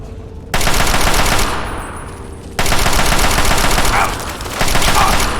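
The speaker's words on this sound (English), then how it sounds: "I'm gonna go with the assault rifle for now." Loud, continuous bursts of automatic assault rifle fire in the video game Fallout 3, rapid sustained volleys broken by brief dips, with the rattling shots dominating throughout.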